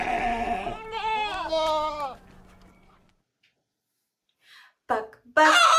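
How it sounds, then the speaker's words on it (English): A small gray goat gives a few wavering, nasal bleats in quick succession, loud and close, then fades to near silence before brief sharp sounds return at the end. "Ma ma went the little gray goat."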